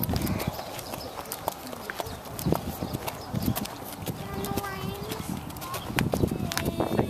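Horse hooves clip-clop at a ranch during a trail ride, steady hoofbeats moving close by with occasional neighs, while people chat casually over and around the steps.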